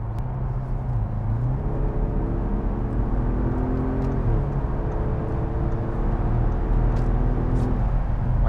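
An Audi RS6 C7 560 hp in dynamic mode on an expressway, a loud steady engine and road drone from inside the cabin, its tone rising and shifting as it pulls through the gears.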